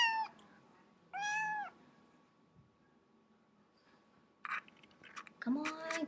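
A pet cat meows up close several times, with two clear drawn-out meows early on and a cluster of sharper meows and small rustling noises near the end, over a quiet room.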